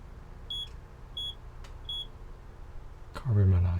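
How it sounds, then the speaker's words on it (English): A smoke alarm in the PS5 video game Dark Knights gives three short, evenly spaced high beeps, fairly faint over quiet background, followed by a low thump. "The smoke alarm? It's beeping."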